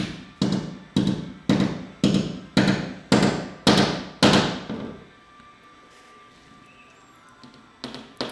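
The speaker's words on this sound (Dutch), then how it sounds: "Met een stevige hamer en een paar zeer stevige schroeven. Oh nee, spijkers." Sturdy hammer driving nails during construction of a radio studio: eight evenly spaced, loud, ringing blows about half a second apart, then quiet with faint room sounds, and one more strike at the very end.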